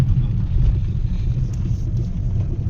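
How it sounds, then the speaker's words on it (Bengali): A car drives along a road, heard from the back seat as a steady low cabin rumble of engine and tyres, fairly loud and unbroken, with no clear speech. "আমি আছি, তুষারও ড্রাইভিং করছে।"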